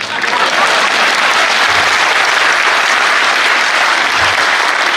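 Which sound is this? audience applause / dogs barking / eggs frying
audience applause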